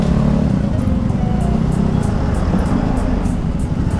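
Road traffic around a Honda Beat FI V2 scooter with an APIDO exhaust pipe, a low continuous engine rumble and wind noise from on board, loud and close, with faint ticking near the top.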